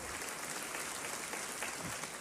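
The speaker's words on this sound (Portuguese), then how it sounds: "Aplauda o Senhor por essa palavra aqui" A church congregation applauds during a sermon, a faint, distant, continuous patter of many hands clapping that stays even throughout.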